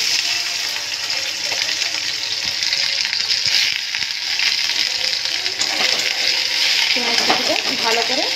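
Chopped onions fry in hot oil in a wok, a loud, constant sizzle with occasional spatula scrapes and light clinks, and faint voices in the background.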